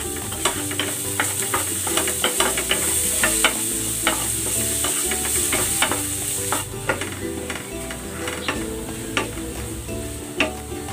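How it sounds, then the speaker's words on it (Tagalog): Garlic frying in the same hot oil in a pan, a steady crackling sizzle broken by repeated scraping stirs from a utensil, loud and close throughout. "Same pan, same oil. Ipiprito ko na itong bawang."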